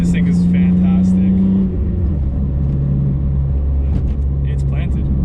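A BMW E46 M3 on a tuned street suspension setup drives through canyon corners, its engine droning loud and close with a steady pitch that shifts as the throttle changes, while someone talks over it.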